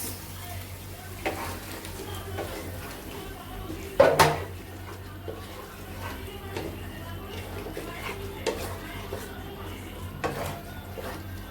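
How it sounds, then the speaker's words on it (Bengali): Hilsa fish is stir-fried in a pan with ginger, garlic and ground spices, a soft sizzle under repeated scraping and stirring, with one sharp metallic clang partway through. "এবার মাছগুলোকে আমি ভালো মতো কষায় নিব"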